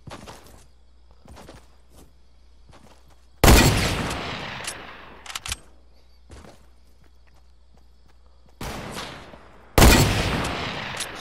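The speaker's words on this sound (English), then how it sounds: "Someone else is shooting at him." Gunfire in the Fortnite Battle Royale video game: three loud, close shot bursts with long decaying tails, one at a time, separated by quiet stretches with faint footsteps and ticks.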